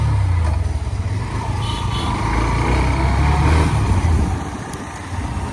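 A Hero Xtreme 125R motorcycle rides along with a steady engine drone and road rumble. The sound stays fairly close and constant, with slight swells as the bike moves.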